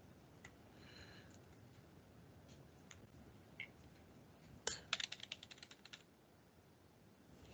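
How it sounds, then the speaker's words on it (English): Computer keyboard typing in a classroom during a live subnetting lesson, faint scattered key clicks building to a quick burst of taps, distant and quiet. "You probably hear me typing"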